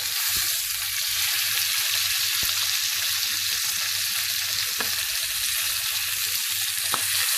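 Salmon pan-searing with the fillet pressed down in the pan, a loud, dense, continuous sizzle with a few faint knocks of the utensil, heard close and with no talking.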